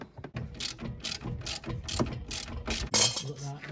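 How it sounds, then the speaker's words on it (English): An 18mm ratchet works the bottom shock bolt on a Renault Clio while coilovers are fitted, giving a run of close, crisp clicking bursts in a steady rhythm for a few seconds with no talk. "It's got a spanner on the left side, an 18mm ratchet on the right side."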